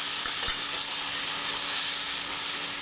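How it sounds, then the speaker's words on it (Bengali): Bottle gourd with shrimp and poppy seed paste is stirred in a hot pan, giving a continuous bright sizzling hiss with a soft utensil knock near the start, steady and close. "পোস্তটা দিয়ে দেবো, দিয়ে ভালো করে এটাকে নাড়বো।"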